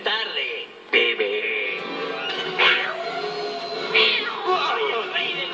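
Cartoon cat meows mixed among busy animated dialogue and music, several mewing cries rising over loud talk in a lively scene.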